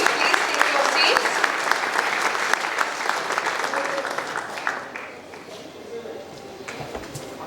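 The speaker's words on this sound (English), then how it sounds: "Can we have a huge round of applause for our winners?" An audience at a textile industry award function applauds its winners, a dense crowd of clapping that slowly thins and softens, with a voice talking faintly underneath.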